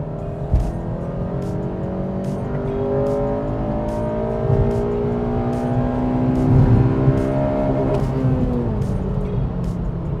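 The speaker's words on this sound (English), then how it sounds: "Yeah, I banged off the rev limiter, but I guess that's kind of what you want realistically." An 8th-generation Honda Civic Si, tuned, pulls hard through third gear from about 3,000 RPM, its engine note climbing steadily and loud for ten seconds until it bangs off the rev limiter.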